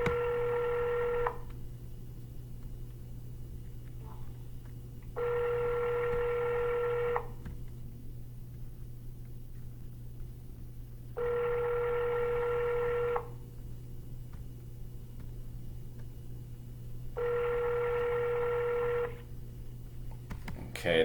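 Telephone ringback tone on a real estate cold call in Tampa/St. Petersburg: four even rings about two seconds long, spaced by quiet gaps, over a steady low electrical hum.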